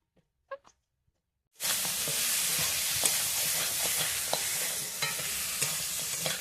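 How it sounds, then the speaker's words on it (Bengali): Fried crab pieces and fried potato are stirred into spices in a hot pan. After a brief quiet start with a few soft knocks, a loud, steady sizzle sets in, broken by scattered clicks of the spoon. "ভেজে রাখা কাঁকড়া আর ভেজে রাখা আলুটা দিয়ে দেবো। মশলার সঙ্গে কাঁকড়াটাকে ভালো করে কষিয়ে নেবো।"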